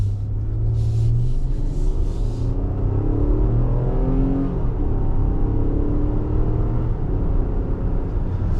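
A 2024 Infiniti QX60 Autograph accelerates hard down a straight, its engine note climbing in steady rising sweeps over constant road rumble and cabin hum, heard from inside with no talking.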